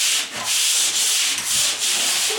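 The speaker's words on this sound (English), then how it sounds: "That's sanded now." Hand sanding over a patched surface with a California hot patch, a loud, steady abrasive rubbing of back-and-forth strokes with brief dips between passes.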